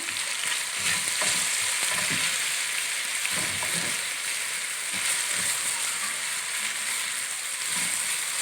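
Lentils and chickpeas sauté in a pan for Egyptian koshari, giving a continuous soft sizzle with intermittent spoon scrapes and stirring clatter, close and moderately loud, with no talking.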